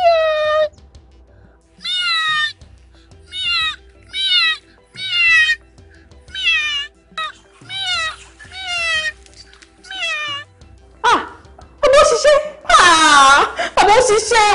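A cat meows repeatedly in a steady series of close, loud calls, ending in longer, wailing cries.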